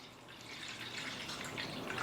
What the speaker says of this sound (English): I'm going to fill this up. I want to add about 1 inch of water.